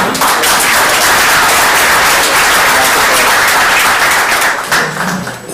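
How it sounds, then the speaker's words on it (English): Audience applause fills the room at a Lincoln Society dinner in Peekskill after a presentation, loud and sustained from start to finish, then tapering slightly near the end. "Another round of applause."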